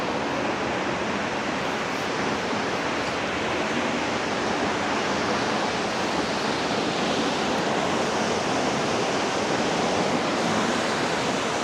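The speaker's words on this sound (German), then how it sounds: "Man hört auch den Wasserfall." A waterfall in Flåm, Norway roars as a steady, dense broadband rush that stays loud and unbroken throughout, with no voices over it.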